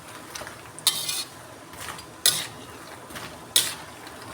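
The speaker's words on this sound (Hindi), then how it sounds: "और अब मैं इसको ऐसे इसको भून लूँगी, मखाने को भून लूँगी।" Makhana (fox nuts) being dry-roasted in a pan, three separate bursts of scraping and stirring about a second apart, close up and quiet between strokes, no voices.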